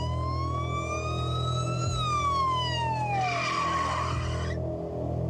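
An ambulance siren wails with a long rising and falling sweep, loud and close, then shifts into a rapid yelp before cutting off, over steady low traffic rumble.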